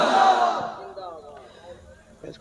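A large gathered crowd roars a loud collective Allahu Akbar in answer to a takbir call at a religious gathering, the shout swelling at once and then fading away into quieter murmurs.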